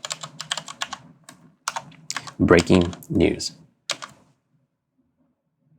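Computer keyboard keys clatter in quick, uneven bursts while text is typed into a DaVinci Resolve Fusion text field, with a voice speaking over and between the keystrokes.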